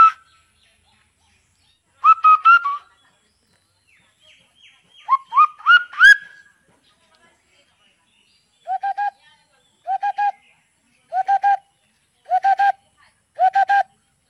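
A voice imitates bird calls in a quiet setting: a whistled burst, then gliding rising notes, then five evenly spaced, clear double-note calls repeated in a steady rhythm.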